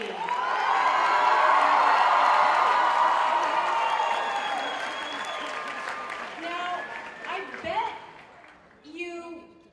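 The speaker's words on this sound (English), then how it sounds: "give yourselves a huge round of applause" A large Comic Con convention crowd in New York bursts into loud, sustained applause with cheering and whoops from a panel audience, swelling early and then tapering off over several seconds toward a few scattered claps and voices.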